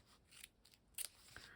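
Scissors handled at a crafting table while journal supplies are laid out: faint light snips and clicks, with one brighter metallic snap near the middle, quiet and close.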